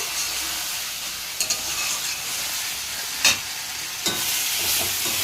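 Potatoes sauté in oil for a fish curry, giving an even hissing sizzle, close and steady, with a few brief clinks of stirring and no speech.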